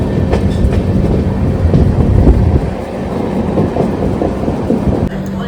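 A passenger train travelling overnight from Rajkot toward Goa rumbles steadily along the rails, with a continuous close clatter of wagons and wheels and a brief dip in loudness partway through.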